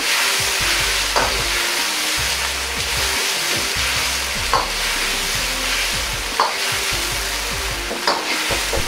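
Taro being stir-simmered over high heat, a continuous busy sizzle with repeated scraping stirs and occasional knocks of the utensil against the pan, close and alone.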